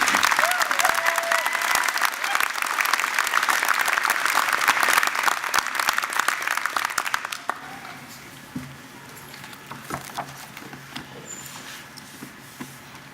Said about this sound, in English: Please give Dr. Williams a round of applause.